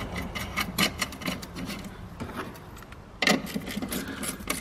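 Tightening the holder nut on a Mercedes W211 E 220 CDI gives a series of close, uneven ratcheting and clicking bursts, with a louder scrape near the end and no voices.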